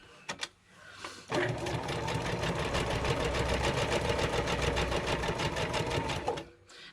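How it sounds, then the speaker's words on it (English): A sewing machine stitches around fabric in one steady, fast mechanical run of about five seconds. The rhythmic needle hammering is loud and close, with a couple of small clicks before it starts and after it stops. "I'm just going to stitch around this."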